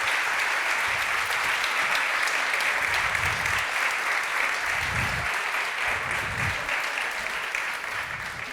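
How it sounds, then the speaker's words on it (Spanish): Steady, dense applause from a large crowd, sustained and loud throughout with no voices breaking through. "Un fuerte aplauso."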